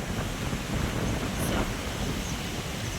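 A strong, steady wind roars across a farm field and buffets the microphone with a constant low rumble, loud and close throughout, no voices.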